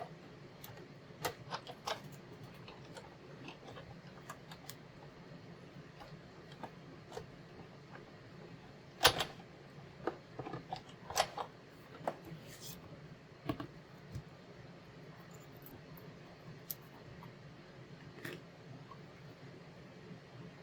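Small heart shapes being cut with metal dies, heard as scattered clicks and snaps over a quiet background hum, with one sharper crack midway and a few clustered taps after.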